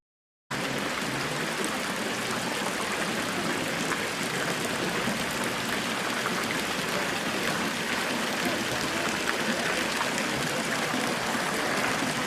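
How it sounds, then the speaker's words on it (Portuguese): Water rushing steadily down the water stairway at the Generalife gardens of the Alhambra in Granada, a constant close splashing flow that begins abruptly and continues unbroken. "Temos aqui uma escada de água,"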